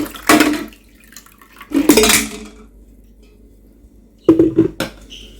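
Eggs boiled in an electric kettle clatter and clink in a few separate bursts with quiet gaps between, close up, as they are moved into another bowl.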